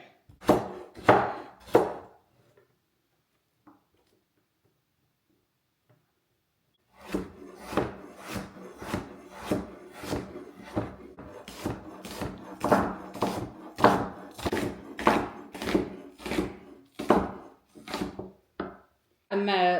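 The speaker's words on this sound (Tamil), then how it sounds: "இந்த கேரட்டை வந்து ஸ்க்ரப் பண்ணி போட்டும் போடலாம் ஆனால் நான் வந்து இப்படி கொஞ்சம் சின்ன சின்ன பீஸாக வெட்டி போட்டு போட போகிறேன்" A carrot is chopped into small pieces on a board: a few sharp knife strokes, a pause of near silence, then a long even series of close, firm chops.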